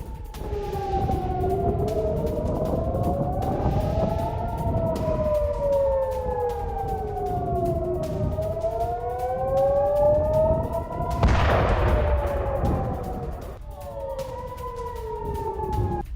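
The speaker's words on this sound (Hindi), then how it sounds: "नेगेव में एयर रेड अलर्ट सायरन, ये देखिए आप।" A loud air raid alert siren in the Negev, Israel, wails up and down in slow repeating cycles, steady and prominent, with a burst of rumbling noise partway through.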